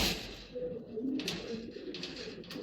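Racing pigeons in a loft cooing softly: faint low coos repeating a few times, with light rustling nearby.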